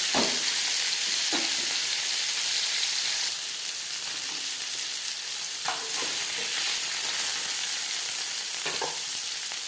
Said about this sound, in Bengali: একসাথে আমি অনেকটাই মাছ দিয়ে ফেলেছি দুবারে ভাজলেই ভালো হতো